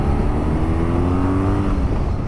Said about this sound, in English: it's a lovely meaty engine, full of character and plenty of fun torque to have fun with when rolling on the throttle